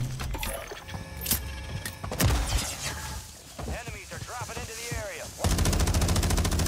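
Gunfire in Warzone: loud rapid bursts of automatic fire with sharp metallic reload clicks, ending in a sustained dense volley, heard with a player talking over parts of it.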